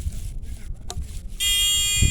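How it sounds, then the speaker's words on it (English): An electronic pest-repelling device in a garden bed, one that had seemed broken, suddenly starts up with a steady, shrill electronic tone. It sounds continuous and fairly loud, coming in partway through after rustling outdoor background noise, with no talking. "Oh, now it's beeping."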